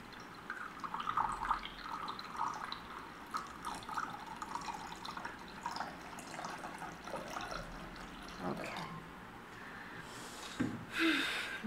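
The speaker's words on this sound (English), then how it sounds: "I'm gonna pour the water." Water is poured for a candle wax reading, a soft, faint trickle with scattered drips that ends in a brief, louder splash near the close, with no talk.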